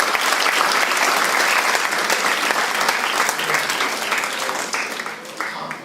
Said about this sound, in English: give a large round of applause to our chief guests for the evening today